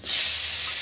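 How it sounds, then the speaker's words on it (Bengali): Chopped onion drops into hot oil seasoned with five-spice seeds in a pan, giving a sudden loud, steady hiss that settles into continuous sizzling, close by. "এই দেখুন অল্প পেঁয়াজ দিচ্ছি"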